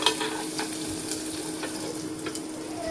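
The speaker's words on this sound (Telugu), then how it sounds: "అదే బండిలో కొంచెం నూనె పోసుకొని కొంచెం వెల్లుల్లిపాయలు, చింతపండు, ఉల్లిపాయలు వేసి బాగా మగ్గనివ్వాలి." Garlic, tamarind and onions sauté in oil in a pan, giving a steady close sizzle with light stirring scrapes throughout and no talk.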